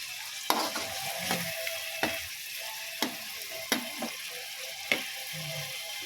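Chicken simmering in a pan, sizzling steadily, with sharp metallic taps from a utensil against the cookware every second or so.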